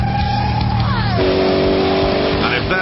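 A Spyker C8 Spyder sports car engine revs and accelerates loudly up through the gears, its rising note dropping at a shift before climbing again, with someone talking over it.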